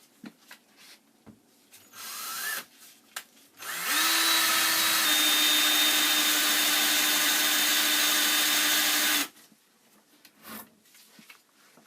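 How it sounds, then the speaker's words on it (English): A power drill whines loudly and steadily for about five seconds, boring about two inches into a wall at a stud for a TV mount, with a few brief clicks and knocks before and after. "Now we're going to drill about 2 inches in."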